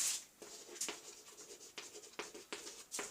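Chalk or marker strokes on a classroom board during a Class 11 number system lecture, a series of short scratchy bursts at an irregular rhythm, close and moderately loud, with no talking.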